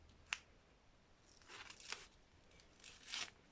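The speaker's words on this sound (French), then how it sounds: "Pourquoi ça a déchiré?" Diamond painting canvas tearing as it is unrolled from its roll, a few quiet, sharp ripping bursts heard close up with no talking.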